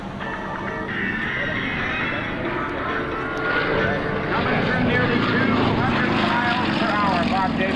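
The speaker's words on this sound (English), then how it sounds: "Bob Davis, flying an airplane that was built in Russia, built specifically for aerobatic competition" A Russian-built aerobatic competition propeller airplane drones overhead at an airshow, its engine pitch rising and sweeping as it rolls and maneuvers, while a commentator talks over it through a loudspeaker.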